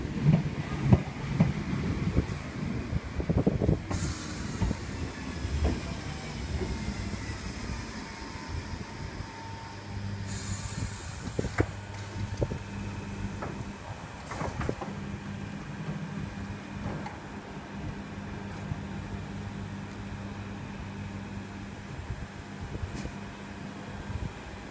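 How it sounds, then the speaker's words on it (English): A Class 317/7 London Overground electric train rumbles at Bethnal Green station, with a steady mid-distance rolling drone, some squeals and clanks, and a couple of hissing bursts. "Running a London Overground service to Chingford."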